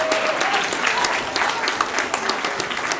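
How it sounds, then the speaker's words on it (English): Big round of applause from a comic-con audience for guests on stage after a Q&A panel, steady dense clapping filling the room throughout without a break. "Can I get another big round of applause for all of our guests today?"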